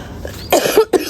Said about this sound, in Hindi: खांसी भी है।